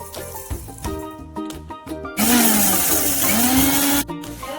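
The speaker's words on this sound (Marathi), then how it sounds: "भाजून झालेलं मिक्सरमध्ये ढोसर वाटून घ्यायचं आहे" A mixer grinder coarsely grinds roasted fennel, cumin and coriander seeds, its loud, steady whir starting suddenly about halfway through, rising in pitch and running for roughly two seconds after a stretch of background music.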